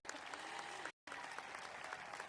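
Audience applause for faculty at a 2021 university convocation, steady dense clapping from many hands, cut by a brief gap of silence before it resumes just as strongly.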